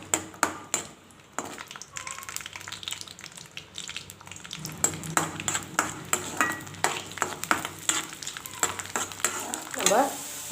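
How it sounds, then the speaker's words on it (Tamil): Garlic frying in sesame oil for a Tamil brinjal gravy, with a steady sizzle broken by sharp stirring clatters and scrapes of a spoon against the pan, loudest toward the end. "பூண்டை சேர்த்துட்டு நல்லா அந்த எண்ணெயிலே நல்லா பொரித்து எடுக்கணும்."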